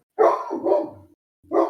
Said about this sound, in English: My dog agrees with you, apparently.